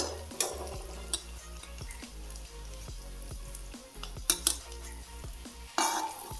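Onions with turmeric, chili powder and salt are stirred in a pan with a metal spoon, bringing a steady series of close scrapes and clinks against the pan over a soft sizzle, with no talking.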